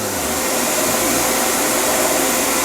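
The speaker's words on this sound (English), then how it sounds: "Now I'm going to take this to the bandsaw and we'll lop off this side here that we don't need." A bandsaw runs steady and loud, cutting through wood for an electric guitar body, a constant broadband whine with no pauses.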